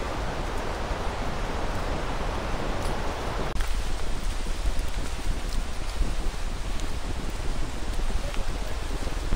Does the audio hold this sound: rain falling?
yes